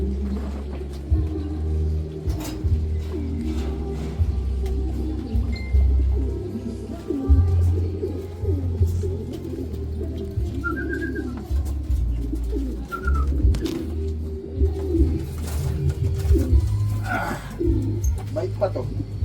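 Racing pigeons cooing at a loft during a 339 km race, soft low burbling coos repeating throughout among scattered bird calls and handling noises, with people talking nearby.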